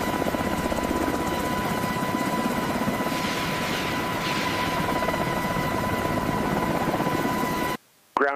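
A CH-53K King Stallion heavy-lift helicopter runs with its seven-blade rotor at full RPM, producing a loud, steady roar and beating drone that continues without a break before cutting off sharply near the end.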